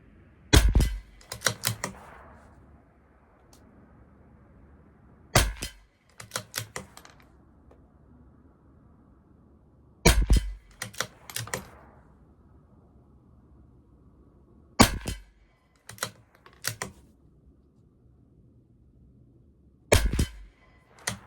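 Shots from a CZ 457 rifle fired at a 50-yard target, sharp cracks in clusters spaced about every five seconds, each followed by brief clicking of the action, no talking.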